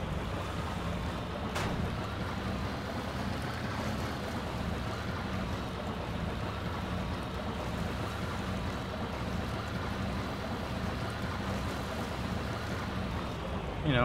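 A motorboat engine in the Far Cry video game drones steadily over water and wind for the whole stretch, loud and continuous, with a brief burst near the start and a swell at the very end.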